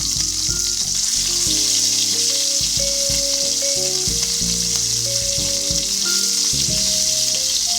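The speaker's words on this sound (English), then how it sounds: "And once the oil is hot, put in the fish head pieces." Fish head pieces sizzle loudly in hot mustard oil in a karai, a dense crackling fry with scattered pops and clinks of a utensil against the pan.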